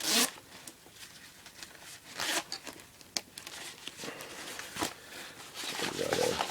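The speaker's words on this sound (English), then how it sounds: "You can see all these side zippers." Zippers opening on the side pockets of a Swiss military surplus tactical bag, several quick rasping pulls at close range, alone with soft handling rustle between them.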